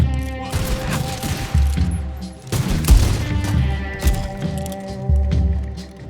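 Gunfire in the Western video game Red Dead Redemption 2: rapid volleys of shots in repeated bursts over about six seconds, loud and close, with booming reports over a rumbling background.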